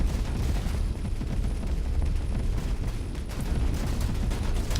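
Laser and Tesla turrets fire nonstop in the space game Avorion, a dense, crackling barrage of rapid zaps and bursts rumbling together with no pauses.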